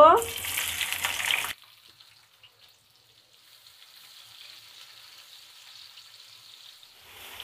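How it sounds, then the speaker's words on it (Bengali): Chopped onions, about a cup, hit hot oil with a loud, dense sizzle that drops off abruptly after a second and a half, leaving a faint steady hiss of frying before a brief clatter at the end. "তেলটা গরম হয়ে এসেছে। এখন আমি এখানে 1 কাপ পরিমাণে পেঁয়াজ কুচি দিয়ে দিব।"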